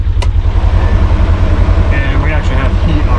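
A 2018 Polaris Ranger 900 XP side-by-side idles as its engine warms up, a steady, close, throbbing low rumble held at an even level throughout.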